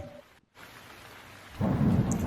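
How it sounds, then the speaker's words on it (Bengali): Heavy rain and thunder play as a sound effect behind a spoken story: a short rumble cuts off into a brief silence, then a steady downpour returns and swells louder near the end. "সকাল থেকে অঝোরে বৃষ্টি হয়ে চলেছে।"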